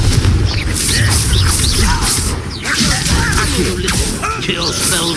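Confringo fire spells blasting in the Hogwarts Legacy video game, a loud run of booming impacts and whooshing bursts that repeat over dense battle noise.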